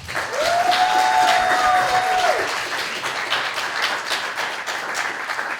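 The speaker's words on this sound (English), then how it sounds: "Can we get another round of applause" A crowd at a university student election debate night applauds steadily for several seconds, with a sustained whistle-like tone riding over the clapping early on before it fades.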